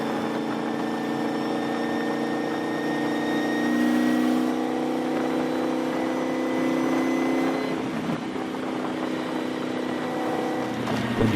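A race car runs at Texas Motor Speedway with a loud, steady engine drone that holds an even pitch, swells slightly midway and keeps going throughout.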